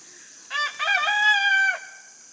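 A rooster on a homestead crows once, a loud, close cock-a-doodle-doo lasting over a second, rising then holding before breaking off, with quiet background otherwise.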